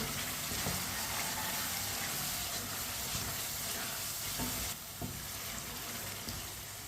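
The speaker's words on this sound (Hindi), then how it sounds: "आलू डाल लेंगे, मिक्स कर लेंगे।" Potatoes hiss and sizzle in a hot pan for aloo matar while being stirred, a steady, fairly quiet frying crackle with occasional spoon clinks and a brief dip partway through, no talk.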